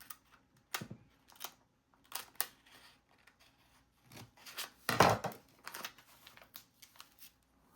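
Scissors cutting paper for a vintage bird-themed junk journal page, heard as a series of short crisp snips at close range, bunched into quick bursts with one louder snip near the middle and brief quiet gaps between cuts.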